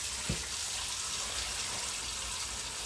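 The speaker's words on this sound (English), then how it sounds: "So I just stick the stems down, nice cold water, and I'll make sure they're thoroughly washed" Cold tap water runs steadily in a kitchen sink as Swiss chard stems are rinsed, a constant close splashing rush with a brief soft knock near the start.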